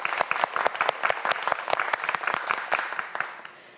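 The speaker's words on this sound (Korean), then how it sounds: "역시 큰 박수 부탁드립니다." Studio audience on a TV quiz show breaks into lively applause, a dense patter of clapping hands that holds steady for a few seconds and then fades out.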